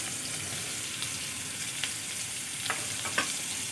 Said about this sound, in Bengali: এবার আমি আলুগুলো ভালো করে লাল লাল করে ভেজে নেব।